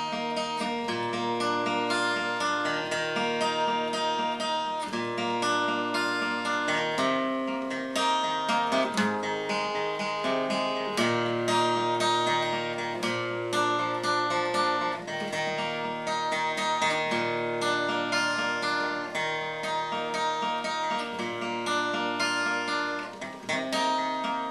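Acoustic guitar strumming a steady chord progression from a song, clear and close, with chords changing in a regular rhythm and no voices.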